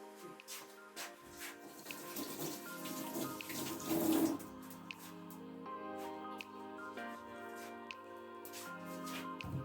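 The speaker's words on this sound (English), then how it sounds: "So let me wash my hands." Hands are washed under a running kitchen tap, a faint, steady splash of water that swells briefly, set against soft background music.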